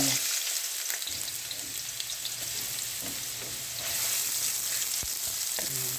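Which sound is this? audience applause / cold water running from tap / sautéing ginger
sautéing ginger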